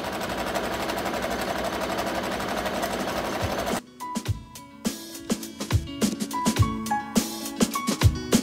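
A sewing machine stitches a fabric cover, running at a steady rapid rattle, then stopping and restarting in short bursts of stitching with clicks as it backstitches.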